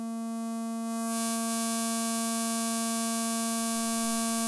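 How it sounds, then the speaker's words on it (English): A modular synthesizer patched through three distortion stages drones as a buzzy, harmonic-rich tone that grows harsher and noisier with glitchy hiss, loud and sustained with no voices. "we have a lot of distortion, glitchy things right now."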